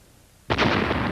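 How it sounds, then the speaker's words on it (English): A sudden loud blast goes off after a brief quiet moment, a miniature Star Trek starship model being blown apart, with a broad burst that sustains and rumbles to the end. "The final explosion completely destroys the starship."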